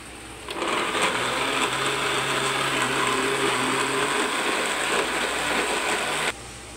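An electric grinder whirs loudly and continuously, blending garlic and ginger with oil, starting abruptly and cutting off after about six seconds.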